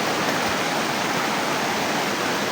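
A flowing stream rushes steadily in a dense, even wash of water noise, close and loud with no voices.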